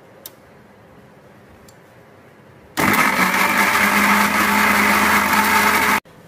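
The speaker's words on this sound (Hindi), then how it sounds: "अभी मैं कर लूंगी ग्राइंड, इसे हमें ठंडा करके ही" A kitchen blender grinding cooled momos chutney starts abruptly after a quiet stretch, roaring loud and steady for about three seconds, then cuts off sharply.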